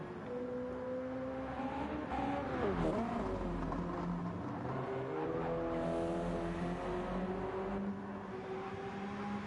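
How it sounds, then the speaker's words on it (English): A race car in Gran Turismo at Bathurst lifts off the throttle, its engine note dropping and rising through shifting harmonics with exhaust crackle, loud and continuous throughout with a brief swell midway. "flames continuing to spit from that exhaust as he lets off the throttle"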